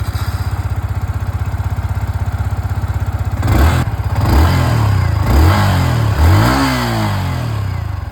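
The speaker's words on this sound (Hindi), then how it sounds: "तो ये था यहाँ पर XSR की आवाज़।" A Yamaha XSR 155 motorcycle's exhaust idles with a steady, rapid thump, then is blipped through several short, sharp revs that rise and fall, heard up close with no talking.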